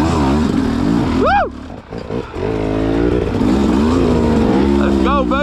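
A KTM 300 XC dirt bike on a muddy, rain-soaked trail revs hard and close, with rising and falling engine pitch through throttle blips. A rider's excited shouting cuts in over the engine.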